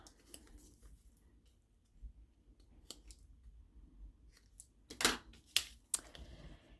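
Scissors cut a piece of material in half, a few crisp snips and clicks near and fairly quiet, with soft handling rustle between them.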